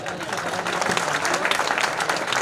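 An audience applauding at a mushaira poetry gathering, a dense, even patter of many hands clapping together, steady throughout and close.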